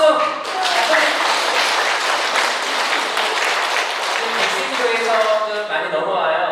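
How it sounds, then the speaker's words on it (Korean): Audience applause fills a Catholic lecture hall, a dense steady wash of clapping running throughout with voices faintly mixed in. "가톨릭 박수"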